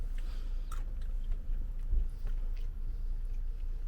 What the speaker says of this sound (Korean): 난 귤 한번 먹어야겠다